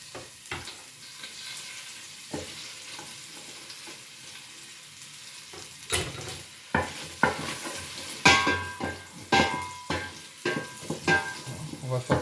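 Shallots and lightly crushed garlic sweating in a pan for moules marinières. A soft sizzle is stirred with a utensil, and scraping strokes grow busier and louder in the second half.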